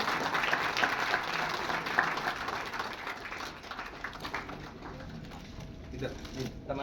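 Audience applause at a municipal inauguration ceremony in Bhavnagar, a dense continuous patter of many hands clapping that gradually thins, heard from mid-distance with some background voices.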